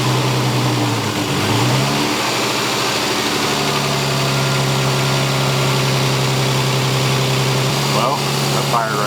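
A turbocharged Lexus IS300 with an AEM FIC fitted cranks and fires up, settling into a loud, steady, close-up idle with a rough mechanical hum and faint clatter throughout.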